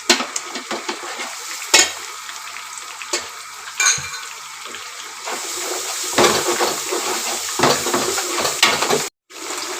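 Chicken biryani masala with yogurt is stirred in a hot pan, a loud sizzle broken by repeated scrapes and clatters of a utensil against metal, close and without talk.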